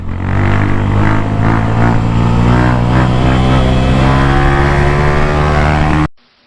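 A Champion 150cc motorcycle revs steadily and loudly as it rides and leans, a close, droning engine note with a harmonic buzz that holds for about six seconds before cutting off abruptly.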